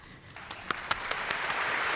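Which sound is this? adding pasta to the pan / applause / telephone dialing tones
applause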